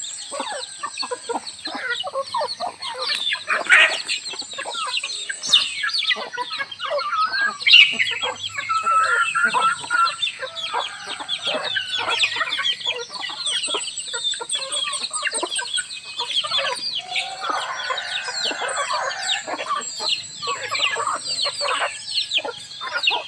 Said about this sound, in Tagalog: Ito yun, mga alaga natin, guys. Bisayang manok guys